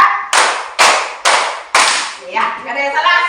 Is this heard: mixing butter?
no